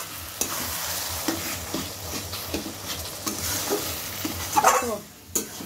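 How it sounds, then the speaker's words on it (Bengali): Mutton being sautéed and stirred in a home kitchen pan, a steady sizzle with repeated scraping stir strokes throughout, louder clatter near the end. "এটাকে আগে কষাবো, তারপর লঙ্কার গুঁড়ো দেবো।"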